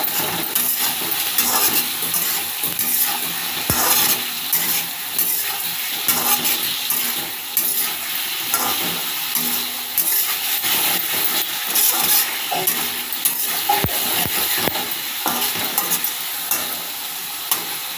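Potatoes fry in a pan with ginger, garlic, chili, cumin, coriander, turmeric and salt, giving a steady close sizzle with stirring clinks and scrapes of a utensil throughout, with no talk.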